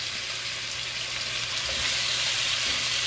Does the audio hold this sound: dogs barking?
no